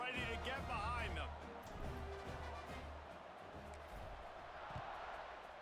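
Stadium crowd noise in the College Football 26 video game swells into a loud, steady roar before a kickoff. A commentator's voice talks over it at the start, and the crowd keeps up a continuous wash of noise throughout.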